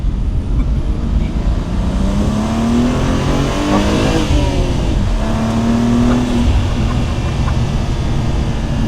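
BMW M2 sports car accelerating hard in second gear, the loud engine note climbing steadily in pitch, easing briefly, then climbing again over constant road and wind roar.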